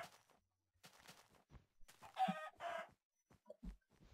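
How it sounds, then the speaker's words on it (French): Chickens clucking in Minecraft survival mode, several short soft clucks and squawks scattered over a few seconds with brief gaps, close and fairly quiet. "Ah mais j'en ai marre quoi après ces poules."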